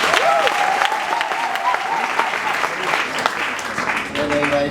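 Continuous clapping from a church audience at an anniversary choir concert, dense and steady, with a voice briefly heard over it near the beginning and end.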